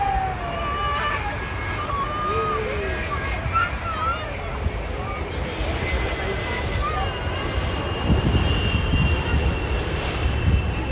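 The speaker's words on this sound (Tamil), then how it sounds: "ஃபைனலி இந்த இடத்துல நின்று ஒரு ஃப்ளைட் இறங்குறத கேப்சர் பண்ணியாச்சு" An airplane comes in to land on a runway in Chennai at night, a broad engine roar that builds and swells toward the end, with chirping birds and distant crowd murmur nearby.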